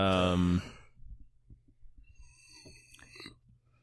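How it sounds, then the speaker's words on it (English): A loud, drawn-out yawning voice fades into soft breathing and faint shuffling, with a few high squeaky vocal sounds near the end. "Sorry, I yawned."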